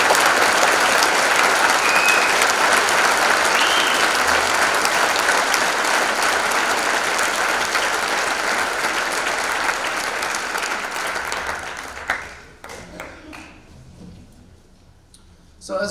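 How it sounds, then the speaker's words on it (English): A large audience applauds a high school band at a spring band concert, steady dense clapping filling most of the clip before tapering to a few scattered claps at the end. "How about a round of applause for the Pelican Rapids High School Band"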